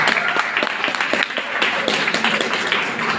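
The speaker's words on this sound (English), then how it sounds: "Please give a huge round of applause for the ma'am." A hall of nursing students applauds at a gender inequality seminar, steady close clapping from many hands filling the room without a break for about three seconds.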